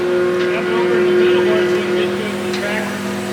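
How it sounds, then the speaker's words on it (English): Skid loader engine droning steadily while dragging a grain bin, a constant mid-low hum with a steady tonal whine, moderately loud and close, faint voices in the background. "we're dragging this out with the skid loader"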